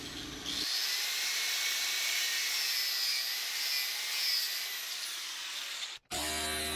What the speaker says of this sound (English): they get a lot easier if you slice through the copper windings that bridge the two hemispheres